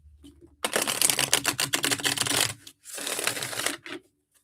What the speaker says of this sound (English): I feel like I need to shuffle them here.